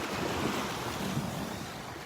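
Ocean surf at Delnor-Wiggins beach on a calm morning with an offshore breeze, a dense, steady wash of breaking waves mixed with wind rumble on the microphone, with no voices.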